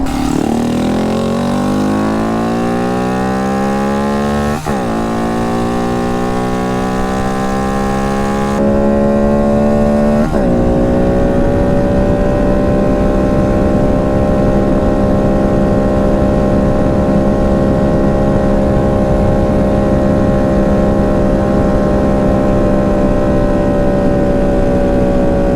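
Honda Monkey motorcycle fitted with an MNNTHBX intake, throttle opened on a downhill mountain run; the engine climbs through gear changes into a loud, sustained high-pitched scream close by.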